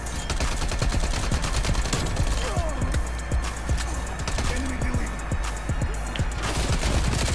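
Rapid bursts of Milano 821 submachine gun fire in a Call of Duty Black Ops match, sharp repeated cracks layered over constant busy battlefield noise with clattering footsteps.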